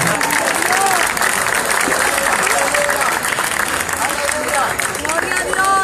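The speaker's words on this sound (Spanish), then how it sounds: "Dándole un aplauso fuerte al Padre," Loud applause from a church congregation at an anniversary service, energetic steady clapping mixed with voices calling out and crowd murmur.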